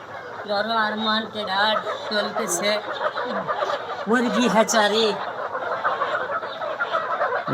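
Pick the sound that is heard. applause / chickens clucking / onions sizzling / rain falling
chickens clucking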